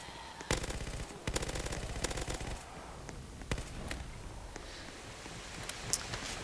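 Automatic gunfire from a player shooting zombies in the video game Zombie Uprising: quick rattling bursts of rounds near the start, followed by scattered single shots and quieter background game noise.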